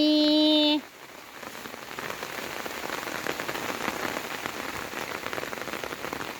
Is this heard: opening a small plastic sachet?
no